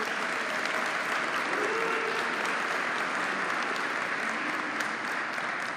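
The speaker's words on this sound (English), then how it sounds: "a big round of applause for our student athletes that are signing today" A crowd claps steadily for student athletes at a signing day ceremony, the thick applause sustained and even for several seconds.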